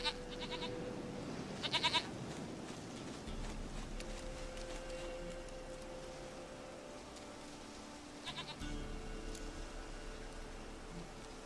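Goat bleating in The Witcher 3, two short bursts of bleats near the start and another near the end, over a steady ambient background with no talk.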